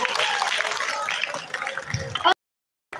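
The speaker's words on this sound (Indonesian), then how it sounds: "Terima kasih, tepuk tangan sekali lagi." An audience at a motivational talk claps, brief and moderately loud applause with some voices mixed in, ending in a sudden cut to silence.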